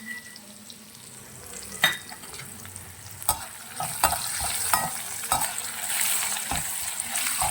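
Dry red chillies and garlic frying in tempering oil for a drumstick pickle, a soft steady sizzle close by, broken by occasional sharp spoon clinks and stirring knocks, no speech.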